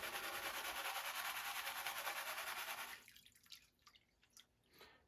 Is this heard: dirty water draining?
yes